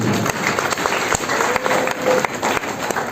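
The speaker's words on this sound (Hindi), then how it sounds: "मैं चाहूँगा सर से आप सब लोग शांति बनाए रखिए और एक ताली बजाइए।" An audience at a district youth conference claps together, producing a steady patter of many hands with sharper individual claps, close and lively throughout.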